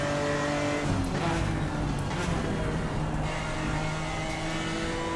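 A GT4 race car in the Assetto Corsa Competizione racing game, its engine droning steadily at high revs with brief tire noise and shifts through a flowing lap, moderately loud with no speech.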